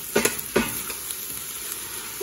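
Gumbo ingredients sizzle in a pot as a utensil stirs them, with a few louder scraping knocks early on over a continuous frying hiss.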